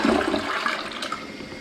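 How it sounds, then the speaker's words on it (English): A 2021 Kohler Kingston toilet flushes, a brief close rush of water that swirls and fades away with no voices over it. "Let's give it a flush."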